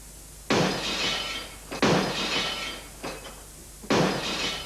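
Glass breaking as an advertising sound effect for a glass repair service: four sharp crashing bursts with bright shattering tails, fairly close, spaced about a second apart over steady background hiss.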